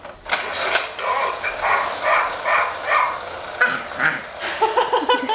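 A baby imitates a dog barking with a run of short, rhythmic voiced yaps, repeated several times close by, with adult chatter and laughter around the little barks.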